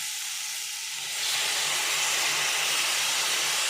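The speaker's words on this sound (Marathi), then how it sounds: "आता ही पाणी ना हे शेंगामध्ये घालून घेऊया" Hot water pours into a pot of cooking cluster beans, the sound swelling after a second into a loud, steady rushing hiss of sizzling steam; no voices.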